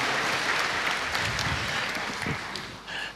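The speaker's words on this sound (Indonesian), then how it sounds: "Sekali lagi kita haturkan terima kasih dengan tepuk tangan yang meriah untuk Ibu Negara" A crowd claps for the First Lady at a National Elderly Day event in 2012, loud, full applause that dips slightly near the end.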